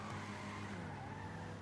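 A car in the video game GTA 5 Online drives with an engine drone and a brief tyre skid squeal near the start, loud and continuous for under two seconds.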